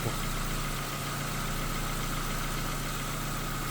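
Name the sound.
1.6 MPI BSE car engine idling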